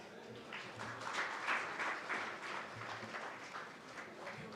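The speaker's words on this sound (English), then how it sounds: "I request all of you to please give her a big round of applause" Audience applause welcoming a guest at a foundation day celebration, a steady wash of many hands clapping at moderate distance, sustained throughout without speech.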